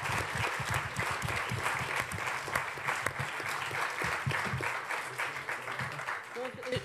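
An audience at a Senate debate applauds, with sustained clapping from many hands and voices talking over it.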